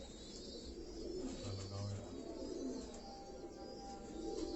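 Pigeons coo softly at Haji Muhammad Yousuf's house in Karachi, a low repeated coo rising once mid-clip over faint background hum and distant noise.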